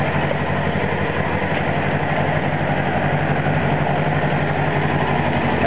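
A 1995 Suzuki RF600R motorcycle with under 13k miles idles steadily, a constant close engine drone with an even, unbroken rumble and no talk over it.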